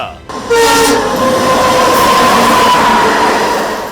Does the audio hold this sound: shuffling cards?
no